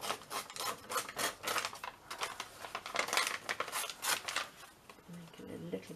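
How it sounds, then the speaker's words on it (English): Printed paper being torn out by hand in a craft tag-decorating session, a series of close rasping rips and rustles in short bursts, with a brief murmur of voice near the end. "Let's just tear it out, like so."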